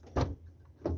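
The large door of a Toyota Alphard minivan is opened: two short mechanical clunks about two-thirds of a second apart, close and moderately loud, with a quiet pause between them.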